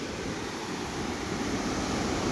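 Rushing water at the Bharachukki waterfall pours in a steady, dense roar that stays loud and unbroken throughout, with no voices.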